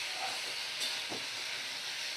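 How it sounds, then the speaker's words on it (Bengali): Goat liver and spices sizzle in a pan over a medium flame, giving a faint, steady hiss with a few soft stirring scrapes. "মিডিয়াম ফ্লেমে রেখেই আমি মশলাটা কষাচ্ছি"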